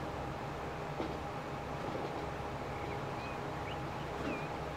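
Train in the Transport Fever video game rolling into a station, a steady low rumble with faint rail clatter and brief high squeals, moderately loud throughout.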